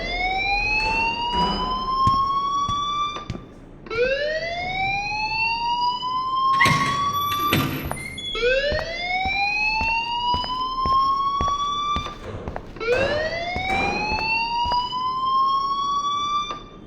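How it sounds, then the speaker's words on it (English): School alarm in the video game Life is Strange: a loud wailing siren rises in repeated sweeping cycles about every four seconds, with sharp clatters and brief noises between the sweeps. "please turn off that alarm since that's your job."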